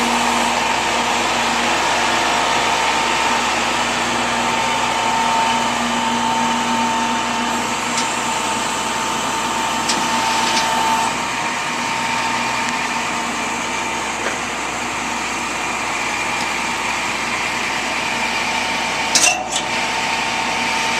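A rollback tow truck's hydraulic bed tilts back toward a container, giving a steady, loud mechanical hum and whine that runs for the whole stretch with only small shifts in tone.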